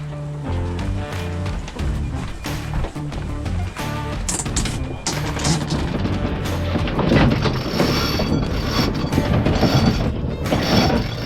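Sailboat winch and rigging during a tack, a steady run of ratcheting, clicking pawl and rattling pulley sounds that grows busier and louder toward the end, with wind and boat noise underneath and no talk.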